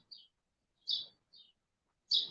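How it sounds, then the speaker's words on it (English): A bird sings outdoors in short, high chirping phrases, four separate bursts spaced apart against otherwise quiet surroundings. "that's a real bird, Anita."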